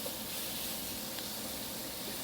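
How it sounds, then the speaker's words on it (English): Onions and garlic sautéing in a pan for vegan creamed spinach give off a steady, close sizzle with an even hiss and no pauses or talk. "move the garlic with that and start to saute these onions"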